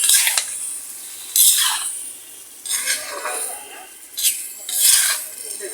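A utensil scrapes and clinks around a pan of garlic and oil for a potato and dried-fish dish. Four or five rasping strokes come close and fairly loud, separated by brief pauses.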